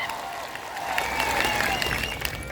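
A crowd at a political rally applauds loudly and steadily for a few seconds, a dense wash of clapping with some voices mixed in.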